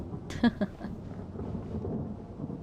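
Thunder rumbles through a storm in the Genshin Impact video game, with a sharp crack early on followed by a low, sustained rolling rumble.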